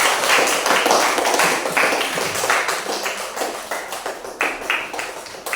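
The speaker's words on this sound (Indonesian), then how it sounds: "Oke, tepuk tangan kita semua" A school class claps hands together in uneven bursts, with sharp slaps of fluctuating density that thin out toward the end, fairly close and lively.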